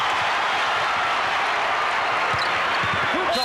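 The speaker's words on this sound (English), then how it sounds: "And the crowd reacts to that foul." A basketball arena crowd roars in reaction to a foul during a Chicago Bulls and Orlando Magic game, a loud, steady wash of cheering and noise with a commentator talking over it.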